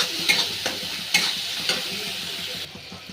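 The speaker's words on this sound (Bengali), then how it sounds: "জিরে গুঁড়ো, হলুদ গুঁড়ো, হালকা একটু লবণ, ভালো করে কষাতে হবে" A spice paste with ground cumin, turmeric and a little salt fries in a pan while being stirred, giving a close, steady sizzle with several sharp scrapes of the spoon over about three seconds.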